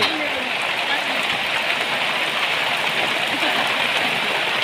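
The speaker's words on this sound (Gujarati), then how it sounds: "અચાનક વરસાદ પુષ્કળ પ્રમાણમાં વરસી રહ્યો છે" Heavy monsoon rain pours down in a dense, steady roar near Limkheda and Dhanpur in Gujarat, loud and close throughout with no pauses.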